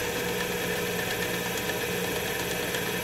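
A metal lathe spinning slowly with a brass-casting flywheel hub pattern held in its jaws, giving a steady, even motor hum and whir at constant level throughout, with no talking.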